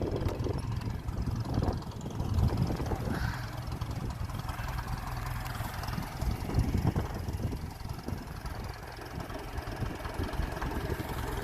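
A 1957 Ferguson 35 TVO tractor engine runs at a steady rough idle, a low continuous rumble at moderate distance with no talk over it.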